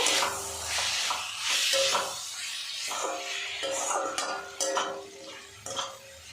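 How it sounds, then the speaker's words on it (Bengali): Green beans and tomato being stir-fried in a pan: repeated spatula scrapes and metallic clinks over a soft, steady sizzle, close and rhythmic. "টমেটো দিয়েছি বিন কড়াইয়ের সাথে বেশ কিছুক্ষণ নাড়াচাড়া করে ভাজা ভাজা করে নেব"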